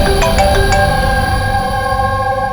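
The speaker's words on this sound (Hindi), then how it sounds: "सर, पंकज का फोन था" A phone ringtone plays loudly and steadily, with a few quick high beeps at the start and then a sustained electronic tone throughout.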